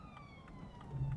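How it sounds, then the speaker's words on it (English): A police siren passes outside on a London street, heard from inside a car: a wailing tone rising and falling over steady traffic and engine rumble. "You can hear the sirens outside"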